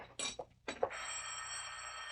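A telephone bell rings in a 1945 radio suspense drama, with two short bursts followed by a longer sustained ring, moderately close and heard alone with no talk.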